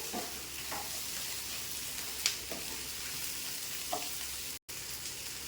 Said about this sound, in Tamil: கொஞ்சம் கருவேப்பிலை கொத்தமல்லி போட்டுக்கலாம் போட்டு நல்லா வதக்கி விட்டு